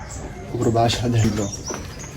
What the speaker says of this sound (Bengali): এই যে দেখেন কবুতরগুলো দেখুন কবুতর গাইস